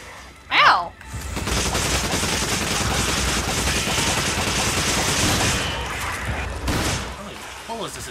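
Sustained rapid gunfire from the Resident Evil 5 video game, a dense fusillade running for several seconds after a short loud thud, with a brief voice near the start and talk returning near the end.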